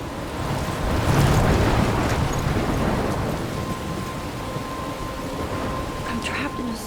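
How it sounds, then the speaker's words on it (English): Rumbling thunder and steady heavy rain in a storm near a lighthouse in the game Life is Strange, a broad wash of downpour swelling early then settling, with a voice talking faintly underneath. "I'm trapped in a storm?"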